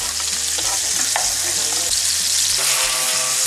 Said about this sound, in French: la cuisson des steaks.